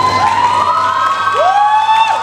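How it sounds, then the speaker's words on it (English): Audience cheering and whoops rise at an anime convention performance after a lullaby song is sung, with a loud, continuous crowd roar and shrill, gliding voices. "Thanks for the applause."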